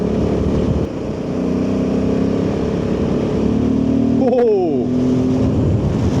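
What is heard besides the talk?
Royal Enfield Himalayan 450 motorcycle being ridden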